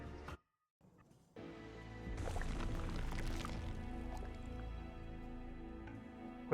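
Water is poured into a container during a quick drink break: a brief handling sound, a moment of silence, then a steady, soft gurgling pour that lasts several seconds with no talking.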